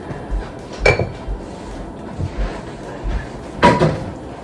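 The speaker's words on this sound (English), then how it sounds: "So I have this big spoon right here and I'm gonna stir it." A big spoon stirring a pot, heard as a few close metallic clanks and scrapes against the pot, with two louder knocks and softer low thuds between.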